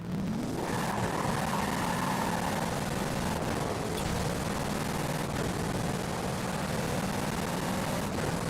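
Engine of a stock Pagani Huayra, roughly 740 horsepower, driven in Forza Horizon 5, a steady loud sustained roar running the whole time with no talk over it.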